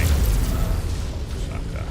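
Missile explosion in MechWarrior 5 lands as a heavy, close low rumbling boom that rolls on and slowly fades over two seconds.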